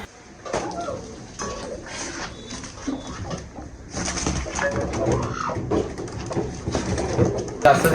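Pakistani pigeons coo softly in a steady murmur inside a netted farm enclosure, mixed with rustling and some nearby voices.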